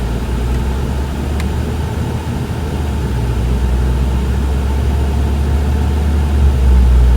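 A car engine fitted with a DIY intake and a Go Fast Bits DV+ diverter valve hums steadily at low revs while driving downhill, a constant muffled drone with a slight swell near the end.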